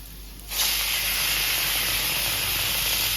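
Tomatoes hitting sauteing onions in a hot pan set off a sudden loud hiss that holds steady and close, following a brief quieter moment.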